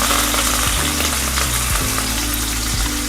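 Green chillies and cumin frying in a little oil in a wide pan, a loud, close, continuous sizzle with no talking.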